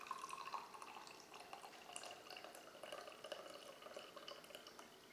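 Sangria pours into a glass holding a few ice cubes, a quiet, steady liquid trickle with light dripping and splashing for about five seconds.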